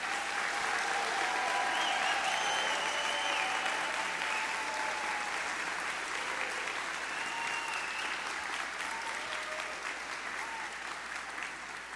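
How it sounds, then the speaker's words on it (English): Steady, sustained audience applause at a Doctor of Physical Therapy white coat ceremony honoring student physical therapists, a dense wash of clapping that fades slightly toward the end. "let's applaud our student physical therapists"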